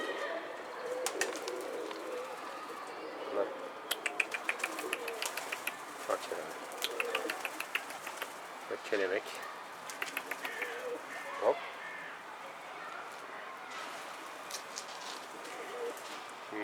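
Birds coo softly amid a busy outdoor ambience, with scattered chirps, rustling and a few sharp clicks throughout.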